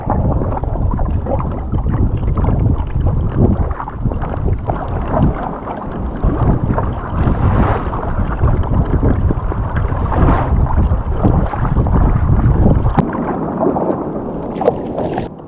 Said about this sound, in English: right now I'm paddling over towards Steel Island